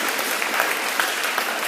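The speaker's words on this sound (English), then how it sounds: "Let's give them a big round of applause also." An audience at a school spring athletic awards ceremony claps for the advisors and coaches, a dense, close and steady burst of applause.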